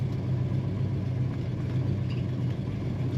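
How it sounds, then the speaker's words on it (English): Red 1969 Chevrolet Chevelle Malibu Sport Coupe idling, a soft, steady low engine rumble heard quietly and alone without any speech. "Really nice rumble to this car."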